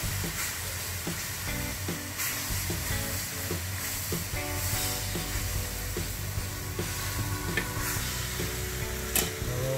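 Lamb browns in a Saladmaster electric skillet, giving a continuous hissing sizzle with occasional stirring scrapes and clicks throughout.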